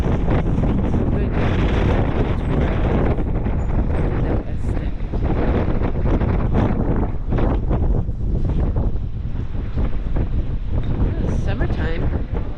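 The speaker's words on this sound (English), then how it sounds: "It's quite cold and windy today." Strong wind buffets the microphone on the cold Uruguay coast near boats, with a loud, continuous roar and gusts, and people talk underneath it.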